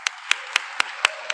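At a Capitol Hill commemoration event, evenly spaced sharp hand claps ring out about four times a second, crisp and close over a quiet room, sounding like a few people clapping in rhythm rather than a large crowd.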